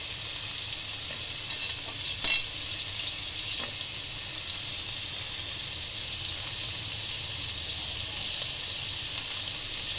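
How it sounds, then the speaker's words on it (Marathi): Onion, garlic and ginger frying in hot oil on a home kitchen stove for a raw banana kofta curry, a steady soft sizzle throughout with one brief clink partway, no talking. "हे पहा, आपण कांदा परतायला टाकलेला आहे."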